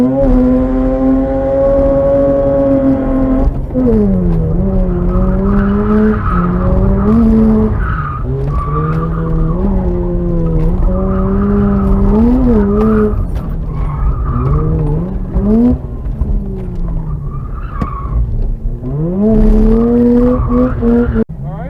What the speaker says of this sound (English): I want you to peel out of here like a motherfucker.